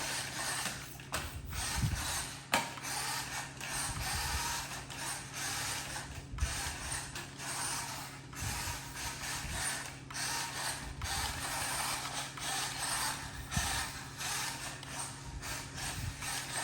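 A Kyosho FCX24 RC crawler with a K5 speed motor runs steadily, its small electric motor and gears giving a continuous mechanical whir with faint ratcheting clicks, close and alone with no talk.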